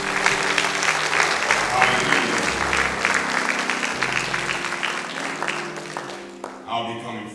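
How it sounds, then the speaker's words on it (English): A church congregation claps hands in praise, with dense, loud, continuous clapping that mixes with some voices and background tones, then thins out near the end. "Come on, put those hands together and give God a hand clap of praise."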